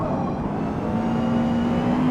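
A race car engine in Forza Motorsport at Fujimi Kaido hums steadily and loudly through a slow hairpin section, its drone holding even with a rising tone near the end, and no talk.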